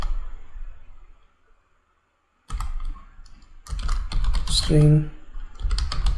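Computer keyboard typing while coding a Spring Boot employee controller, rapid clicky keystrokes in bursts broken by a silent pause, with a voice speaking briefly over part of it.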